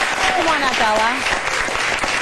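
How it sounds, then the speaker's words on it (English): Studio audience applause, a dense wash of clapping heard beneath a host's voice speaking over it. "Give her a big round of applause."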